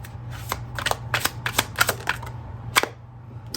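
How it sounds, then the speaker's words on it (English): Modern Day Seers tarot and oracle cards being shuffled and drawn: a quick series of crisp, close riffling snaps and clacks in irregular bursts, then a lone slap near the end. "I'm going to go ahead and pull from my Modern Day Seers Tarot and Oracle"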